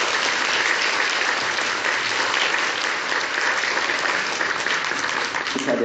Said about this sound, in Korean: 우리 박수 한번 쳐드릴까요?